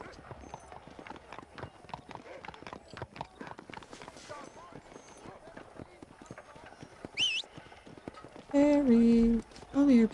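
A horse galloping in Red Dead Redemption, a quick steady clip-clop of hooves close by, followed by a voice calling out, with a short whinny-like cry near the end.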